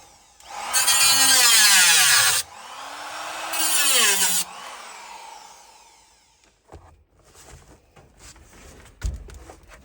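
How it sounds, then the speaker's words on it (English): Power drill boring out spot welds on a rusted car body during body mount replacement, two loud whining bursts with pitch sagging under load, then quieter handling clatter afterward. "I'm going to drill out these spot welds."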